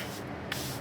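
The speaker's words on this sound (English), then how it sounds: "I'm gonna spray my face." Setting spray hisses onto a face in a single quick, soft spritz against a faint room background.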